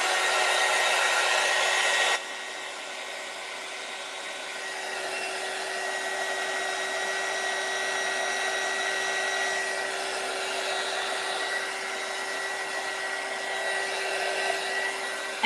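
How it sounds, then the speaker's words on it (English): Heat gun blowing continuously on a glittery paper craft frame, a steady loud whirring hum with a constant tonal whine, slightly louder for the first two seconds, then holding steady with no talking. "let's hit it with the heat gun."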